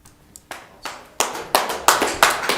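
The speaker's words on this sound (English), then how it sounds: "Excuse me, please hold your applause." An audience applauds at a city council meeting after public comment: scattered claps start softly, then grow into a run of louder, close claps that keep building.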